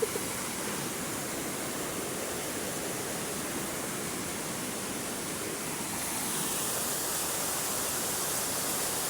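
Floodwater rushing during Typhoon Ragasa, a steady loud broadband roar of fast-moving water that continues without a break, with no voices.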